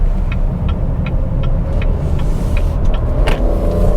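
A 2021 Cadillac XT6 luxury SUV accelerates on a road, heard from inside as a steady, loud low engine and road rumble with faint clicks and ticks, no talking.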